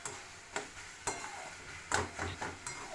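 Boiled stalks are mashed and pressed with a spatula in a pan, giving five or six distinct scraping knocks spaced about half a second apart over a soft background sizzle, close and fairly quiet.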